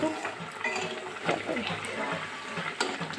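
Soaked mustard paste mixed with water is poured into a simmering fish curry, a brief gurgling, splashing liquid pour close by.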